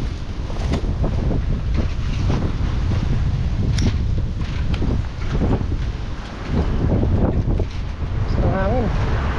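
Wind blows hard outdoors, buffeting the microphone with a steady, dense roar and low rumble that persists throughout with a few brief gusts.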